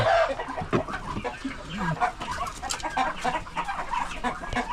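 A hen clucks steadily while sitting on her nest of eggs in a farm coop, close and fairly loud, with soft low murmured clucks and occasional sharper notes running throughout.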